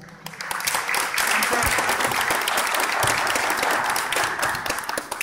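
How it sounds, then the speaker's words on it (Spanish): A crowd of guests at a quinceañera party claps in a loud, dense burst of applause that swells and holds steady for several seconds before easing slightly. "Así que le damos un fuerte aplauso, por favor, a Alex Chávez."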